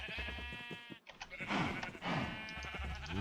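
Sheep in the Minecraft video game bleat several times in quick succession, loud and close, with their nasal calls overlapping and no talk.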